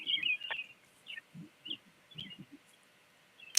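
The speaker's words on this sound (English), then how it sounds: "I put crushed almonds on the bench, and birds will sit next to me and eat the almonds." Birds gathered around an outdoor bench eating crushed almonds give short, high chirps and tweets in scattered bursts, with soft low sounds between the calls.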